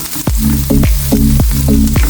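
Tuna sizzling loudly in a hot pan with turmeric and coriander powder while a spoon stirs it in steady repeated scrapes, close and continuous.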